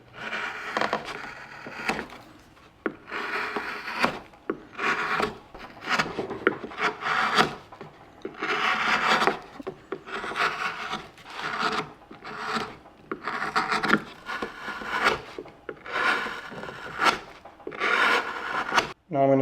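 A gouge cuts into wood while a maple leaf is being carved, making repeated scraping, rasping strokes in uneven bursts with short pauses between them, close and fairly loud.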